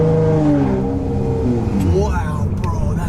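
A cammed, full-bolt-on Nissan G35 engine revs in quick rising and falling pulls, loud and close, while excited voices talk over it.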